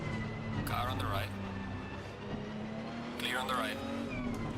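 Race car passing by in Assetto Corsa Competizione, a sustained engine drone with two distinct whooshing sweeps as cars rush past closely, under continuous racing engine noise.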